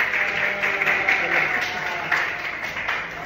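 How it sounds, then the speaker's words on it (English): Students clap their hands in a classroom, a brief steady patter of applause with no break. "Clap your hand to Josh"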